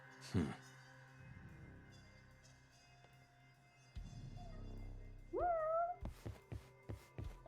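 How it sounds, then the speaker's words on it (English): A cat meows in a video game, a rising, wavering mew near the end that sounds close overhead, following low rumbling game ambience and brief clicks, with a faint short voice early on. "Sounds like the cat's just like right above me."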